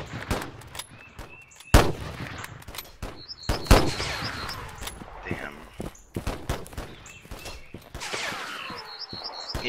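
Rifle shots crack sharply in the WW1 video game Holdfast, several loud close reports spread irregularly among distant gunfire, chirping birds and someone talking over the battle.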